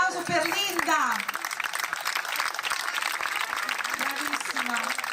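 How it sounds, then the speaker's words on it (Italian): Crowd applause at a school award ceremony for a student, steady clapping running under a voice speaking over it. "Ancora un grande applauso per Linda."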